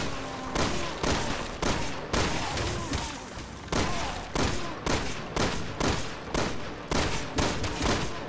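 Resident Evil 6 gunfire during Leon's campaign: a loud, close string of about a dozen heavy shots fired at a steady, rapid rhythm, each with a short echoing tail, and no talk over it.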